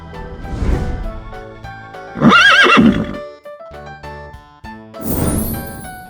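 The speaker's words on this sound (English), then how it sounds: "horse," Loud horse whinnies rise and fall over light music, with one strong neigh in the middle, softer snorting or clip-clop sounds around it, and another whinny at the close.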